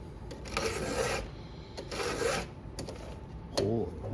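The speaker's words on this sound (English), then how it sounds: "someone's been sharpening this, putting too much of an angle in these teeth." Cutter teeth on a Stihl MS170 chainsaw filed by hand, with repeated rasping strokes in bursts of about a second, close and moderately loud, with a short pause between strokes.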